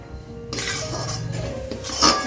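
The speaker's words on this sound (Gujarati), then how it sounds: "ખાસ ગેસ પર શેકવાનું કે ખાસ પર શેકવાનું? એટલે આપણે હલાવતું લેવું પડે." Edible gum roasts in a kadhai over a gas flame for methi pak while a spoon stirs it. Close, continuous metallic scraping and light clinking start after a brief quiet moment and grow slightly louder toward the end.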